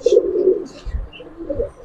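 Giribaz pigeons coo at close range: a couple of brief, low, throaty coos with a faint higher chirp between them.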